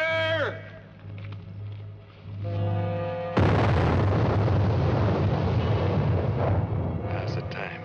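Loud dynamite-style blast in an 1876 Leavenworth, Kansas prison yard, a sudden heavy boom with a long rumbling roar that lingers several seconds after shouted warnings.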